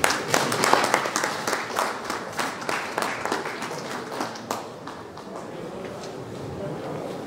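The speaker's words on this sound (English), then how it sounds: "Shall we clap for you?" Mourners at funeral rites break into a round of applause, a burst of many hands clapping that rises loud at first, then thins out and fades over several seconds.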